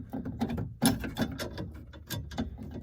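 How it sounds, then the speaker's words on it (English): A socket ratchet works a bolt loose on a 2000 Ford F350 passenger door. Quick, close clicking pawl strokes come in short uneven bursts. "You're obviously not going to be able to use an extension, so just want to socket in a ratchet."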